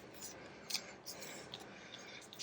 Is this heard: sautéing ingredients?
no